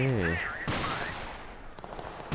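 Gunfire from below in the war game Total Conflict: Resistance: a loud burst of rapid shots following a brief voice, then fainter, scattered shots trailing off.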